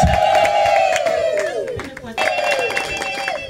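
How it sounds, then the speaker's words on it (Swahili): Wedding guests clapping and ululating for the parents: high, warbling ululation cries rise over a crowd with scattered clapping, loud and close in two bursts. "Piga makofi na vigelegele kwao."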